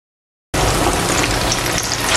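After a moment of silence, food starts frying in hot oil: a loud, steady, crackling sizzle heard up close.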